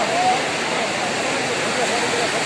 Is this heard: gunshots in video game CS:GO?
no